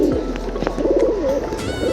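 Pigeons cooing in a loft, a soft, steady low coo repeating throughout at close range with no talk over it.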